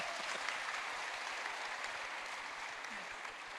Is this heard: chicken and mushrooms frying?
no